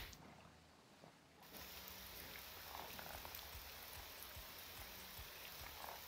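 Rain falls steadily in the video game Morrowind, a soft, even hiss of drops with occasional faint patters, and no talk over it.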